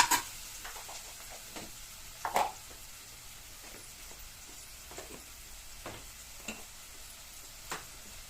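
Spices being tempered in hot oil for a Chettinad fish gravy give a faint, steady sizzle, with occasional spoon clinks and stirring scrapes scattered through it, close and quiet.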